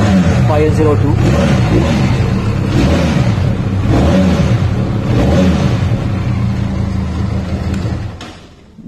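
A Benelli Leoncino 500 motorcycle engine rumbles steadily at idle and low revs close by through twin exhaust pipes, with someone talking over it throughout before the sound tapers off at the end.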